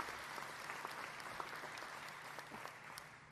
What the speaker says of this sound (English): cue the clapping